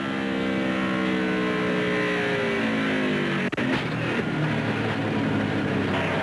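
The engine of a NASCAR race car, heard from on board during the 2001 Protection One 400, drones loud and constant with a rising, shifting whine, then settles lower after a brief dropout.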